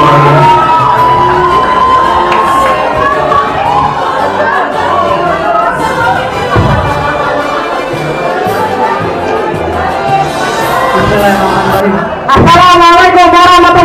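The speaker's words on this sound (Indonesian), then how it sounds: "Kita berikan aplaus untuk paslon nomor 2." A school crowd cheers, shouts and whoops loudly and continuously for candidate pair number 2 at the Bukit Duri student presidential election, with a brief tonal, musical sound near the end.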